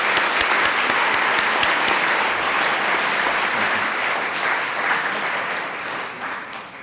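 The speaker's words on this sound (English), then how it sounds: "Let's give her a round of applause." Sustained audience applause at a college day event after a guest presentation, a loud, dense roomful of clapping that holds steady and slowly tapers toward the end.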